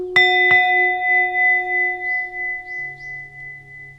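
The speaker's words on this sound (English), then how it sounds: "I'm gonna ring the bell." A meditation bell struck twice in quick succession, close and clear, its pure ringing tone then sustaining and slowly fading over several seconds in a quiet room.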